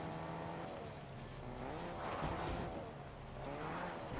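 A car driven in Fortnite, its engine droning with a rising and falling pitch and some tire noise, mid-level and continuous, with no talk over it.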